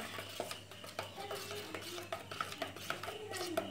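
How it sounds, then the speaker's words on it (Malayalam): A spoon stirs dry ingredients into beaten eggs in a bowl for cream cake batter, making quick, close clinks and scrapes against the bowl's side in an uneven rhythm. "ഇനി നമ്മൾ ബീറ്റ് ചെയ്ത മുട്ടയിലേക്ക് ഡ്രൈ ഇൻഗ്രീഡിയൻസ് ചേർത്ത് കൊടുക്കാം"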